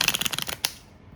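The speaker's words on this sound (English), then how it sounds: "the sound pattern that the shuffling makes is something that I find helps me focus" A quick riffle of tarot cards, a run of papery flutters ending in a sharp snap, then brief quiet. Close and fairly loud.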